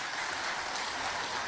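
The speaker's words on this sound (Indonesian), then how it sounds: "Tepuk tangan buat Kang Deddy Mulyadi." An audience at an Indonesian official gathering gives a brief round of applause for Kang Deddy Mulyadi, a soft, fairly distant patter of clapping lasting only a moment.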